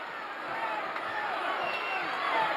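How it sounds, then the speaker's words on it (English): A wrestling arena crowd roaring in a continuous, dense uproar of cheering and shouting at a live Houston wrestling event, loud and sustained throughout. "Listen to the uproar here"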